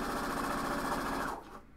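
Sewing machine stitching fabric at a steady, fast run, loud and close, then slowing and stopping near the end; no talk.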